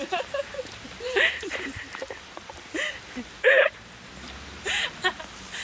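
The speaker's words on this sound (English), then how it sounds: "Unfortunately, it's raining." Steady rain patters across a broad hiss, broken by a few louder splashy bursts and brief vocal sounds close by.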